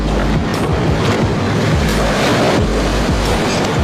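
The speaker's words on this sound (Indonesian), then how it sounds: "ternyata gelombang air cukup besar sehingga ikut menyapu dataran seberang tempat penonton" Big waves surging from a newly launched offshore supply ship, launched 31 October 2015, wash over the spectators' bank across the water as a loud, continuous rushing roar with wind buffeting the microphone.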